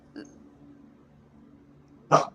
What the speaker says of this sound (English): Yeah, that was my dog barking.